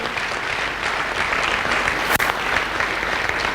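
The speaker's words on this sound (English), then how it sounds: "Keep the applause coming, make it louder." Sustained audience applause fills the room at a corporate send-off event, dense steady clapping from a large crowd with a brief sharp click midway.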